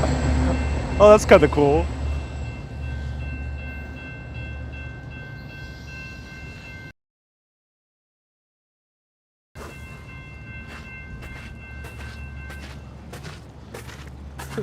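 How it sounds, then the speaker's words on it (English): A Sounder commuter rail train passes in Seattle, giving a steady rumble of rolling cars with tonal squeals, a short horn-like tone near the start and clacking wheels after a brief gap. A person speaks briefly over it. "Yep, this is a sounder. Commuter rail of Seattle."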